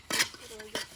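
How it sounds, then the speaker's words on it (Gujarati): Metal utensils scrubbed and washed by hand, a couple of quick clattering scrapes and knocks of pots and dishes, close and fairly faint. "હવે તો વાસણ ઘસી રહ્યો છે"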